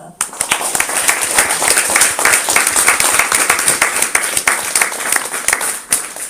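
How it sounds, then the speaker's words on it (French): Audience at a bibliophile conference applauds after a talk, a dense run of many hands clapping that starts abruptly and carries on steadily before tapering slightly near the end. "Je crois qu'on peut l'applaudir."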